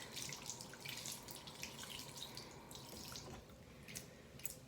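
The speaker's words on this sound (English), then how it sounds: "So the first part of the lab is to wash my hands thoroughly. Make sure to get all areas of the hands between my fingers and rinse." Hands being washed and rinsed under a running tap at a sink in a lab, a steady close stream of water with splashing and dripping throughout, no talking.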